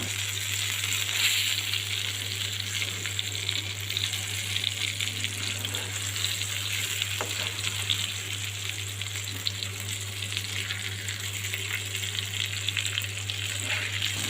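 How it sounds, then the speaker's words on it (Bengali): Magur catfish deep frying in hot oil, a steady close crackling sizzle that runs unbroken throughout with a constant low hum beneath and no voices. "আমি এটাকে একদম কড়া ভাজা করে নিলাম বা ডিপ ফ্রাই করে নিলাম"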